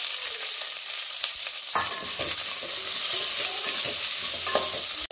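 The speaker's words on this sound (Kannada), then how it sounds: "ಸ್ವಲ್ಪ ಬ್ರೌನ್ ಕಲರ್ ಆಗೋವರೆಗೂ ನೀಟಾಗಿ ಫ್ರೈ ಮಾಡ್ಕೊಳ್ಳಿ" Two chopped onions frying with curry leaves in a pan: a dense, close sizzle that jumps louder as the onions go in, then a continuous crackling hiss with occasional stirring scrapes.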